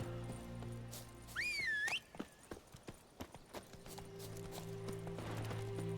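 Roach, the horse in The Witcher 3, whinnies once in a rising, wavering call on being summoned, and scattered hoofbeat clops follow over a steady background game hum.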